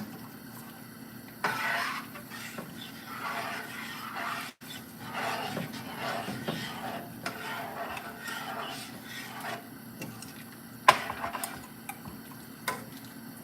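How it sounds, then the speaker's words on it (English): A spoon stirs sour beef soup seasoned with fish sauce and fermented fish paste, giving faint scraping and liquid swishing with a few soft clinks against the pot. "I'll give a minute of stir because I wanted the whole soup to infuse with the fish sauce and the fermented fish."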